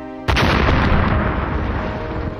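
A cart loaded with 100 pounds of dynamite and 500 pounds of lead weights blows up in a sudden loud blast that rolls into a long, roaring rumble and debris noise.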